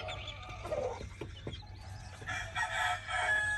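A laying hen calls in short, harsh bursts, a few loud squawking cries close by, followed by higher, drawn-out calls.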